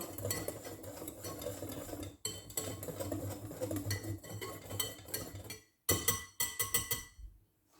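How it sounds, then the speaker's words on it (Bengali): Dry chocolate cake ingredients are mixed in a bowl with a utensil, making soft scraping and stirring strokes with light clinks against the bowl, then a few sharper taps before quieting. "এখন আমি সবগুলো শুকনো উপকরণ একসাথে ভালো করে মিক্স করে নিব।"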